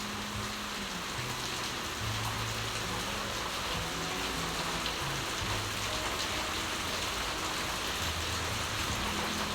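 Heavy rain pours down in a loud, constant wash, with low rumbling patter beneath it throughout.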